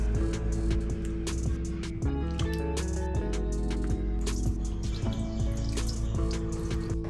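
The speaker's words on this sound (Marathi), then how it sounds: "1 वेळा हा साबुदाणा धुवून घ्यायचा आहे." Sabudana (sago pearls) is rinsed in water, with steady running tap water and splashing close by and soft music playing underneath.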